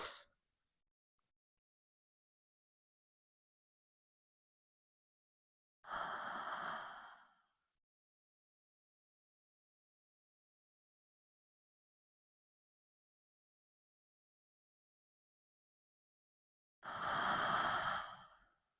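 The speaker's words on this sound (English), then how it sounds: "Five more breaths." Slow, deep yoga breaths heard alone in a quiet room, two long airy exhalations about eleven seconds apart, each lasting over a second, close and soft.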